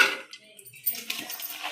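Chopped carrots drop into a cooking pan holding milk and ghee for carrot halwa, giving a brief, close metallic clatter followed by a light scraping rustle.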